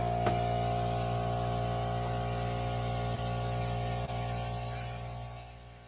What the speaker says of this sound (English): Use the airbrush to zap the flames.